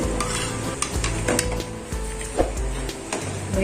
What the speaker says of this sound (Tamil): சிம்மில் வச்சுட்டு இப்போ கொஞ்சம் கொஞ்சமாக போட்டு கிண்டி விட்டுக்கிடலாங்க